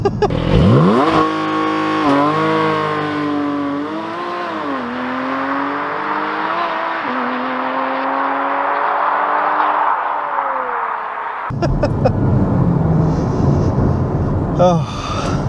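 A Porsche 718 Cayman GTS 4.0 with exhaust valves open in Sport Plus accelerates hard from a stop, its engine note climbing through several gear changes as a loud, close wail before it drops away into wind and road noise.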